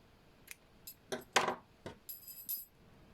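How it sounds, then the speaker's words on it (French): Scissors snip coral crochet yarn: a few faint, close metallic clicks and snips spread over a few seconds, with light handling noise between them and no talk. "je vais couper le fil corail"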